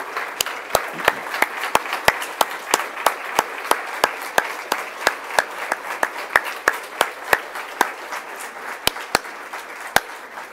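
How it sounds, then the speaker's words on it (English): Applause for the school board at a January board meeting, a steady round of clapping with sharp individual claps standing out, fairly close and continuing for the full stretch without talk. "join me with some applause to our school board"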